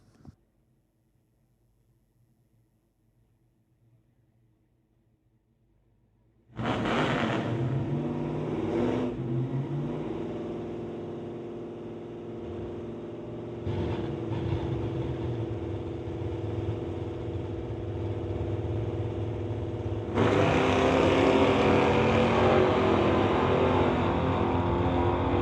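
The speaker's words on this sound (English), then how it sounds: "We'll bring up Ryan Ledrette in the 71 Chevelle to race Nick Douglas in the Dart" A 1971 Chevelle and a Dodge Dart launch at a summit ET drag strip, engines roaring loudly from a sudden start, dipping once as if shifting gears, then rising to a louder, harsher wail.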